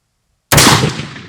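A single sharp rifle shot from a Wedgetail MPR Mini, loud and close, cracking abruptly out of silence and decaying into a brief rolling echo.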